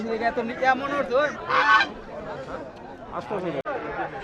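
Geese and ducks honk loudly over busy rural market chatter, with voices talking and calling nearby throughout.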